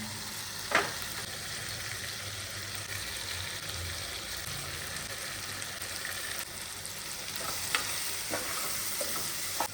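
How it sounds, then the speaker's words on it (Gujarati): Potatoes, eggplant and tomatoes with spices fry in hot oil in a home kitchen, giving a steady, fairly quiet sizzle with occasional stirring scrapes and no talking. "બટાકાને તેલમાં નાખી દઉં અને પૂરા ચડી જાય ને ત્યાં સુધી એને રહેવા દઉં."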